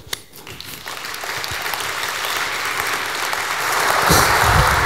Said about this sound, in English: A warm applause for Holger.